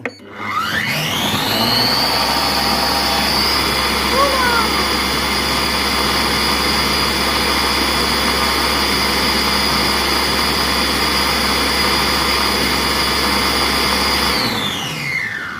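A Compact Cook Pro food processor blends green lentil soup at speed 10, with a loud, steady motor whine that ramps up quickly, holds for about thirteen seconds, then winds down, close and alone.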